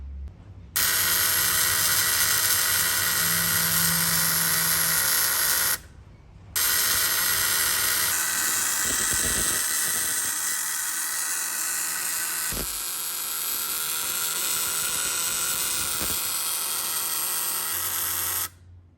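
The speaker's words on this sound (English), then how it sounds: "We take our ignition coil, slide it in, and if we make contact here, it's going to fire the coil" An antique coil tester buzz box fires an ignition coil with a loud, steady electrical buzz that runs almost continuously, broken by one short pause near the start and a few brief clicks of contact.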